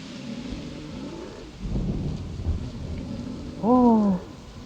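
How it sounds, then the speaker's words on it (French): Steady rain with low rumbles of thunder swelling in the middle, and a brief voiced cry near the end, in the video game Teddy Freddy. "il y a de l'orage"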